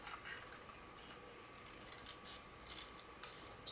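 Scissors snip quietly through paper along a border, a faint, steady cutting sound that grows slightly louder toward the end.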